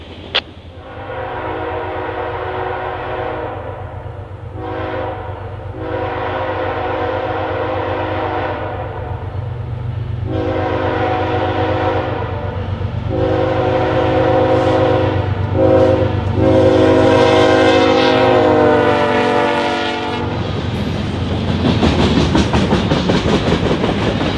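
A Kansas City Southern freight train rolls past westbound at West Brandon, Mississippi, loudly with a long, sustained horn blast over the steady rumble and clatter of the cars, ending in rushing wheel noise.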